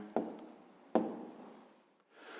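Pen on paper while a fifth-grade maths exercise on the volume of a rectangular box is worked out, with two sharp scratchy strokes close up followed by soft trailing scrapes.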